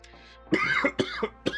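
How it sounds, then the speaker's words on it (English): A single person coughs several times in quick succession, harsh and close, with short pauses between the bursts. "I'm just coughing, smoking myself out today."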